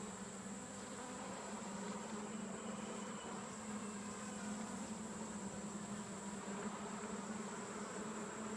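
Honey bees humming around deep hive frames, a steady dense buzz with a constant tone, faint and continuous with no speech.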